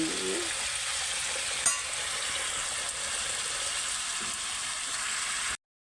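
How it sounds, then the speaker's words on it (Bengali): Sliced ridge gourd frying in oil in a pan, with a steady close sizzle throughout and a faint stir or clink partway. "তারপর ঝিঙেটাকে ভাজবে"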